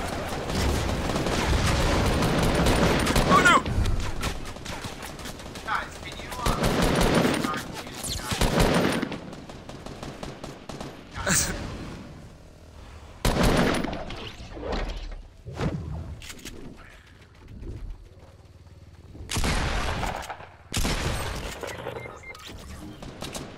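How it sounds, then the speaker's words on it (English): Gunfire from an enemy squad in the video game Fortnite: loud, ragged bursts of automatic shots and single cracks come in several clusters with short pauses between them, alongside thuds and whooshes. "They're shooting us down."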